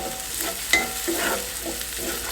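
Chopped onion fries in hot olive oil over medium heat, giving a steady close sizzle with a few brief stirring scrapes.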